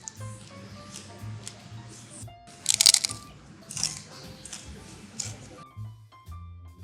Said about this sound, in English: This level of crunch, though, you can hear it from a mile away.